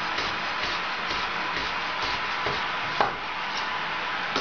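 A knife chops fresh parsley on a wooden board to make gremolata for ossobuco, fast regular taps with a shuffling scrape between them and a sharper knock near the middle, close up with no talking.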